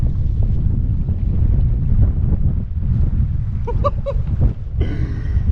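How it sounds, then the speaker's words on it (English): Choppy lake waves slap and wash against a canoe under heavy wind buffeting, giving a continuous loud rushing close to the boat. "Oh my gosh, these waves are crazy."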